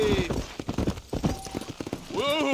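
Horses clip-clop at a gallop in the Western video game Red Dead Redemption, hooves thudding in a quick rhythm under a rider's shouted talk, with a brief whinny-like call near the end.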